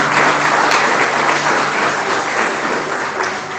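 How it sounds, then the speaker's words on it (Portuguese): A church congregation at a Baptist service applauds together, a dense, loud, steady roar of clapping that holds for the whole stretch and eases slightly toward the end, with no voices on top. "Pode aplaudir aí para vocês."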